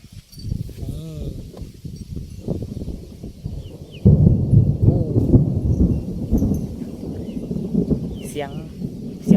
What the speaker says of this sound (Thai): ฟ้าร้องครับคุณแม่